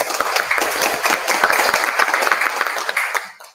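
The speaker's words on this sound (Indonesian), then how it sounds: "berikan tepuk tangan yang meriah." Lively applause from members at an annual meeting of the KSP CU Keluarga Kudus credit union: dense, steady clapping for about three seconds that cuts off abruptly at the end.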